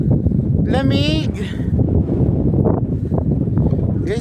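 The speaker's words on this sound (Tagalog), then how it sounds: "Tapos yung hangin, bakit lumakas?" Strong wind on Mt. Ulap buffets the microphone in a continuous low roar, with brief voices and rustling heard over it.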